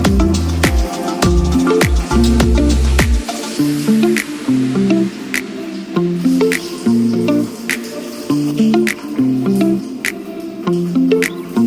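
Hair being shampooed on a wash day, the lather giving loud wet squishes in a quick, irregular rhythm, close to the microphone with brief pauses between bursts.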